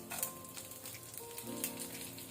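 Dry red chillies, broken into pieces, sizzle in hot oil as a tempering along with urad dal and other seasonings, a steady soft crackling fry with no talking.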